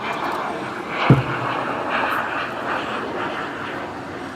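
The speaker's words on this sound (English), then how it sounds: "I'm going to wait for this plane to go." An airplane passes overhead outdoors, a steady broad engine roar that fills the whole stretch at moderate distance, with a brief thump partway through.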